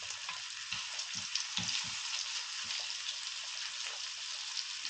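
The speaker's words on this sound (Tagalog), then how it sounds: "Magpiprito lang natin yan until mag-crispy both sides." Salmon belly fries in a pan with a steady, fairly quiet sizzle, broken by occasional soft pops and spatters.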